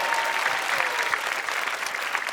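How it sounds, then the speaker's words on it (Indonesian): A studio audience at an Indonesian stand-up comedy show claps continuously, a thick, even wash of hands with no voices over it. "Ya tepuk tangan buat Stand Up Academy."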